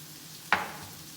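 Fresh thyme and rosemary drop into a hot frying pan, giving one sudden sharp sizzle that fades quickly into a low, steady frying hiss, close and without any talking.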